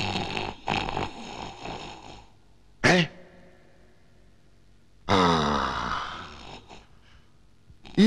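A man snores while asleep, with several rasping, breathy snores separated by quiet pauses, including a short sharp snort and one long rattling inhalation, close up.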